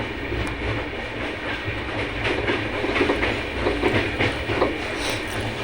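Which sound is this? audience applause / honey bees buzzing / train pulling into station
train pulling into station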